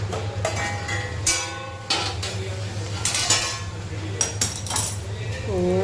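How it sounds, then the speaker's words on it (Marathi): A metal lid comes off a pot of bitter gourd stir-fry amid a series of sharp clanks and clinks of metal cookware, close and fairly loud over a low kitchen hum. "कारल्याची भाजी झाकण काढून घेऊया आपलं"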